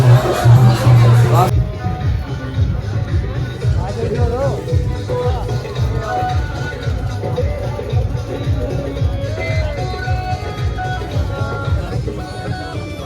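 Crowd hubbub at an Amarnath Yatra checkpoint on the trek from Sheshnag to Panchtarni: a steady babble of many pilgrims' voices, close and continuous, with someone speaking over it.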